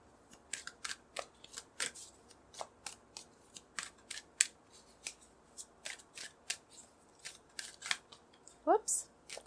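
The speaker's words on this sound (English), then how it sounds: "So I'll do a little shuffling." A deck of tarot cards is shuffled in a steady run of crisp, papery riffles and slaps, close and fairly quiet, with a brief faint voice near the end.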